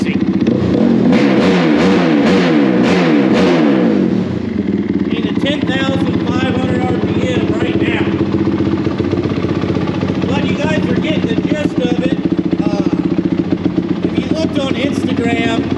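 A Honda 450R quad engine revs hard in rapid rising-and-falling bursts for the first few seconds, then settles into a rough, steady idle with fluttering sputters, close and loud, while people talk over it.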